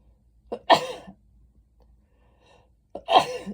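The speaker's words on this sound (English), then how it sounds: "I'm going to sneeze" Two loud sneezes, each preceded by a sharp intake of breath, separated by a couple of seconds of quiet, very close.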